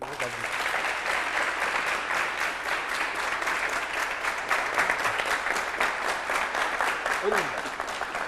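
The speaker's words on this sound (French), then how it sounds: "sous vos applaudissements" A studio audience on a television set claps steadily and loudly for a guest introduced as a businesswoman in tiger nut processing, the dense applause running throughout without pause.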